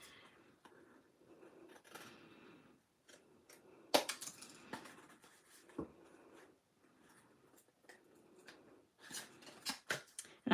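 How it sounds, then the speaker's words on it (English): Quiet rustling and crisp snipping as long scissors cut through cardstock paper, irregular strokes with occasional sharper clicks, close and alone. "I'm going to grab my long scissors for this."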